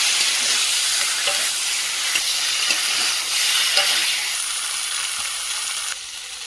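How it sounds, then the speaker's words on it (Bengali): Broccoli, potatoes and eggs sautéed with spices in a pan, a loud steady frying hiss with light scraping stirs that eases slightly toward the end. "ব্রোকলি, আলু সব কিন্তু একসঙ্গেই দিয়ে দেব। তো এগুলো দিয়ে দিয়েছি, খুব ভালো করে এগুলো সঙ্গে আরেকবার কষিয়ে নেব।"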